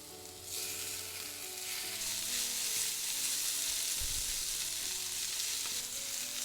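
Kimchi sizzling and frying in oil in a pan after garlic and green onion for kimchi fried rice, a loud continuous crackling hiss with occasional stirring scrapes, close up and without talk.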